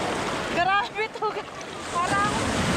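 Rough sea waves and heavy surf at Finale Ligure on the Italian coast, a steady roaring wash with gusty wind buffeting the microphone, while a man's strained, pained voice cries out over it.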